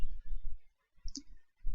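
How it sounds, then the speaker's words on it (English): Computer mouse button clicks while running a PowerPoint slideshow, a few short close clicks set between soft background noise and murmurs. "after clicking mouse button you can get the third one"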